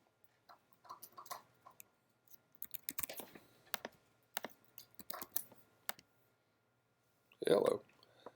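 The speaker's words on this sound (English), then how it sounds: "I'm doing a lot of strange clicking today" Sparse, quiet clicks and keystrokes on a computer keyboard come in irregular bursts and short runs of typing, close by in a hushed room, ending with a brief louder sound.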